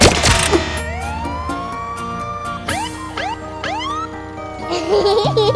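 A police siren wails in rising and falling sweeps over a bright music-box melody, loud and close, with no talking.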